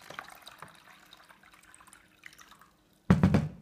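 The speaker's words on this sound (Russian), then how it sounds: "Заполняется водой." Water pours into a folding clear polyethylene flower vase, a brief loud splashing burst arriving near the end after a stretch of faint dripping and quiet room noise.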